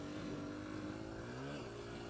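Honda CRF150F motorcycle ridden on trails, a faint distant engine hum with a brief rise and fall in pitch partway through.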